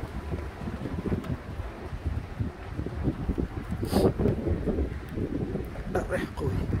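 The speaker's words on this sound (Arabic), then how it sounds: "الريح قوي" Strong wind in Al Hoceima during heavy rain blows steadily as a dense, roaring rumble across the microphone, with gusty swells and a couple of brief rattles, loud and continuous throughout.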